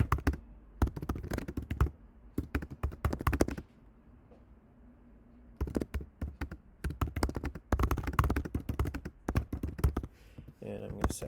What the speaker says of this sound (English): And I'm going to type the alt text